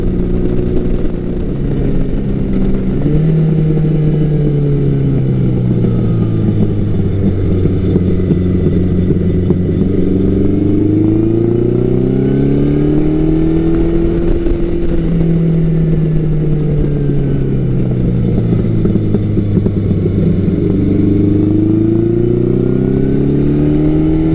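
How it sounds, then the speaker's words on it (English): A Yamaha XJ1100 Maxim motorcycle rides along steadily, its four-cylinder engine a loud, continuous drone that rises and falls as the rider accelerates and eases off, with heavy wind noise throughout. "it really does go nicely, and I can hustle it safely and really without stressing the bike out."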